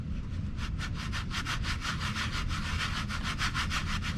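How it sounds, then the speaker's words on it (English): Petrobond foundry sand shaken through a sifter for a copper pour, a fast, even rhythm of rasping strokes, close and steady throughout. "I screen it through the sifter."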